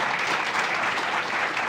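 A crowd applauding Mayor Malik Evans at a headquarters grand-opening event, with brief, dense, continuous clapping.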